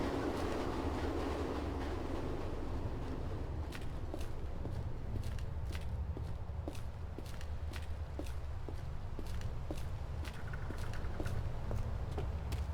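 A train passes by in the video game ADACA, a quiet, steady rumble with faint rhythmic clicks of wheels over track joints, heard alone without talk.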